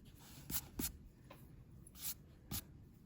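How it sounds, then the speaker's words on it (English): Graphite pencil strokes darkening drawn lines on paper, a few brief scratchy bursts spaced irregularly, close and quiet with nothing else around. "I'm just gonna darken these lines quickly and then erase these lines"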